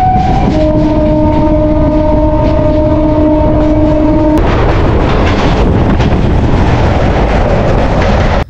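A Bangaon local train runs loud and close, its horn sounding a steady multi-tone blast for about four seconds before cutting off, leaving the heavy rumble and rattle of the moving train with wind buffeting.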